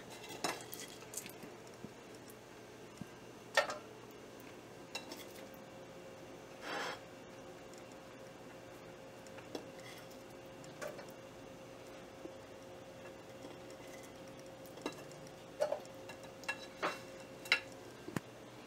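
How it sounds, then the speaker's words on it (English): Onions cook in an oiled pan on a home stove, a faint soft sizzle under scattered metallic clinks and taps of a utensil against the pan. "I got the pan started with oil, and over here I've got the onions, so let's go put the onions inside our pan"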